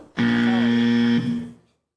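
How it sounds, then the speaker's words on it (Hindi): A game show buzzer sounds once in a steady, loud electronic tone lasting about a second, then tapers off abruptly, alone with no talk over it. "बजर बजाओ भाई"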